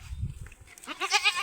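Goat bleats on a farm field, a few short wavering cries rising in the second half after low rustling, fairly close and moderately loud.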